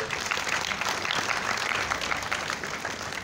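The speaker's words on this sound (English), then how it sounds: "please give another round of applause to Tan Sri" An audience at an entrepreneurship event applauds steadily for a round of clapping, a dense, even roar of many hands close by with no pause.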